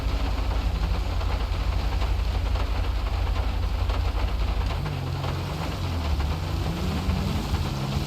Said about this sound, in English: Yep, rainy night for this patrol.